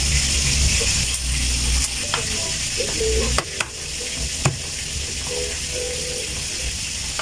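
Chopped tomato sizzling in hot oil in a pan, sautéed for a sarciadong tilapia dish, with a steady loud crackle and a few sharp clinks of utensils.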